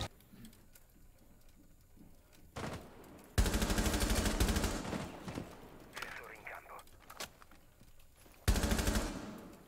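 Rapid bursts of video game gunfire crack out in loud volleys, with a quieter stretch of mechanical clicks between them as a weapon reloads; people talk over the action.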